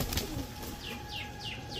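A tumbler pigeon flaps its wings in quick, soft fluttering bursts repeated several times close by, over a steady hiss of background noise.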